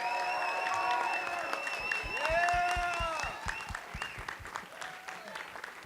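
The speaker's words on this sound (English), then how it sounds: "Please give them a round of applause." Audience applause at a Scout court of honor as new Eagle Scouts are presented, steady clapping with a voice and music-like tones over it, tapering toward the end.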